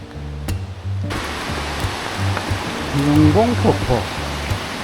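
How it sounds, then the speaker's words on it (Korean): Eungbong waterfall runs with heavy flow after rain, a steady broadband roar heard from a distance, with a voice speaking over it. "응봉폭포. 비가 와서 그런지 수량이 엄청 많은 편이다."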